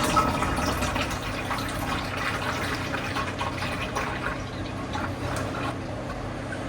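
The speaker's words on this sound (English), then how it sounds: "make the slurry, put all the nutrients in there, and then add it to the 3 litres of water" Nutrient slurry poured from a one-litre jug into three litres of water in a spray bucket, giving a steady, close pouring and splashing wash of liquid with no talk.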